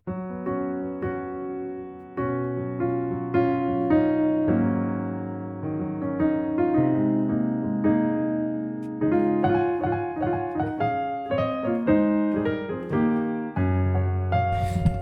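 Keys play a 2-1-b7 chord progression from a song's chorus, sustained chords moving smoothly from one voicing to the next at a relaxed tempo, clear and up close.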